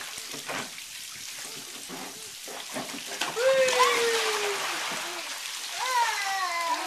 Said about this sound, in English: You're in a rainstorm.